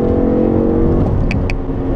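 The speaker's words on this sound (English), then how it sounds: "Wow, but that engine does sound fantastic." Engine of a 2013 Chevrolet Impala 1LTZ rental car revving under load, a steady mid-pitched drone heard from inside the cabin, with two brief higher chirps near the end.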